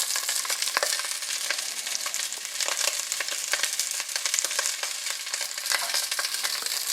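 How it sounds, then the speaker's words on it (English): Sausages browning in a frying pan for a spaghetti and meatballs dish, giving a steady crackling sizzle with scattered sharp pops and spits throughout, fairly close and with no talking. "we're not going to cook these sausages all the way through. Just want to brown them on all sides"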